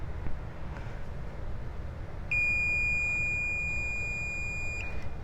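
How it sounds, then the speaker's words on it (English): A continuity tester sounds a single steady high-pitched beep for about two and a half seconds while checking electric fan wiring on a third-generation Camaro, over a low background hum. "And if you hear the beeping, that means you have a good connection"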